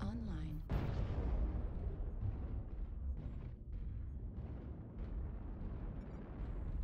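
Artillery strike explosions in a video game, heard as a continuous low rumbling roar of distant detonations with a sharper blast near the start, fairly faint overall.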